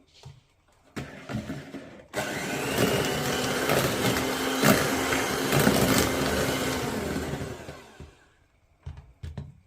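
Eggs, sugar and a glass of vegetable oil whipped together with an electric mixer for a yogurt cake batter, a steady loud whirring that starts after a few clicks and runs for about six seconds before cutting off.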